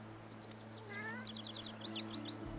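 A cat in the Divinity: Original Sin II video game gives a single soft, groggy meow over a low steady game-ambience hum, with faint chirpy bird-like calls around it.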